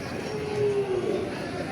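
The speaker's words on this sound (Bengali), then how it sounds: "আরেকটা গরু দেখা যাইতেছে" A cow at a cattle market for Eid sacrificial animals gives one drawn-out low moo in the middle, over a steady murmur of market noise and distant voices.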